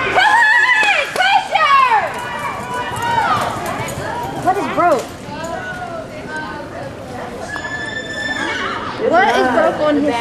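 A horse whinnies loudly several times, its high, wavering neighs repeating over a busy background of voices and people talking nearby.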